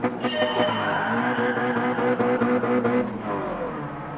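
A racing car in Gran Turismo 7, driven with a manual shifter, roars loud and close with a high engine whine that climbs and drops through several gear changes, with faint tire noise underneath.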